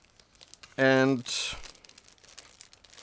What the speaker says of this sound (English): now I'm opening next plastic bag with a clear sprue